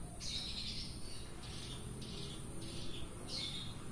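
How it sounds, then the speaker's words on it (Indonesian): A mountain prinia (ciblek gunung), a small songbird kept in captivity, sings in a string of short bright high-pitched phrases repeated every half second or so, fairly faint over a constant low background hum. "Yang kemarin ciblek gunung yang mandek bunyi, sekarang udah rajin bunyi karena di terapi."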